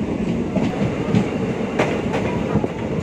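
A DEMU train runs on single line track between Kolar and Yelahanka, giving a steady rolling rumble from inside the carriage with faint rhythmic wheel clatter throughout.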